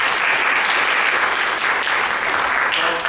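An audience at a ski club's freeride parent meeting breaks into a dense, loud burst of applause, many hands clapping together without a break for a few seconds.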